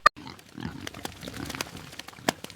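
Pigs grunt in a short, uneven series of close, rough snorts in a farmyard, with a sharp transient at the start and scattered squeals and clatter through the background.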